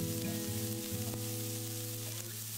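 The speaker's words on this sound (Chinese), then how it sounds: "再把姜末、蒜末、青红辣椒放进来翻炒一会儿" Ginger, garlic and green and red chili peppers stir-fry in a wok with a steady close sizzle and faint scraping, no voices over it.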